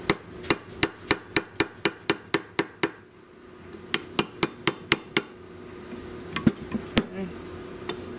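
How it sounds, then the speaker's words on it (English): Sharp, ringing metallic strikes of a hammer on a chisel breaking off rivets on the data plate of a 1938 Robbins & Myers 16-inch Double Diamond pedestal fan, a rapid even run of blows, a pause, then another series of hits. "If I can break these off with a hammer and a chisel"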